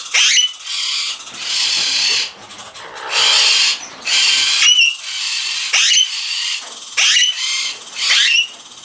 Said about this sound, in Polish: ten odgłos, który teraz słyszycie, to są mnichy oczywiście, takie skrzeszące